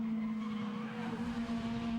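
Caterham Roadsport race cars at Donington Park heading toward Coppice, a steady, fairly distant engine drone with a strong sustained tone and faint tyre noise, no voices.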